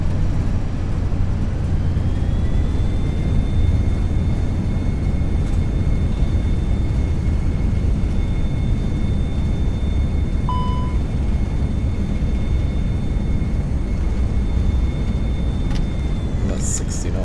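Simulated easyJet Airbus A320 landing at Manchester in Prepar3D: a loud, steady engine roar rising into thrust-reverser rush after touchdown, with a sustained whine and brief cockpit chimes, all without talk.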